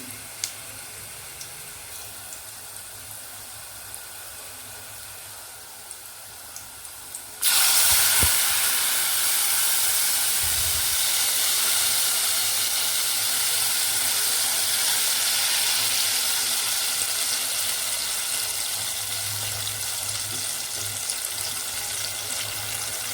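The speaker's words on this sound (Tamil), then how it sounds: "இந்த ஸ்டேஜில் வந்து நம்ம கரைச்சி வச்சுருக்க புளி தண்ணியை ஊற்றிக்கலாம்." Tamarind water hits hot oil with fried bitter gourd in a pan and bursts into a loud, sudden sizzle that holds as a steady, strong hiss, after a quieter stretch before the pour.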